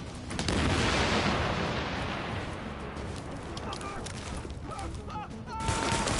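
Gunfire from a shooter battle in The Division, set in New York City, with bursts of shots and rumbling impacts in a loud, busy firefight, and players talking over the action.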